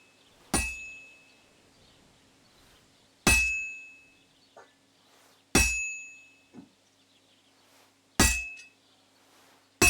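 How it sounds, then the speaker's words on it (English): A blacksmith's hammer rings on a sword laid across an anvil in Kingdom Come Deliverance 2, four loud metallic clangs spaced a few seconds apart, each decaying with a ringing tail, plus faint lighter taps between. "Now take the hammer and try hitting it a few times."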